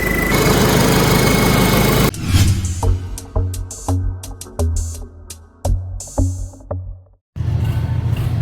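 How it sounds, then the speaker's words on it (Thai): A JO 5C four-cylinder twin-turbo engine on a soil-tilling tractor runs loudly at first, then drops into a series of uneven revving pulses and pauses before cutting out briefly and returning to a steady roar. "รถตีดินนะครับเครื่อง JO 5C 4สูบเทอร์โบคู่เลย โ้ เสียงหวานจัด"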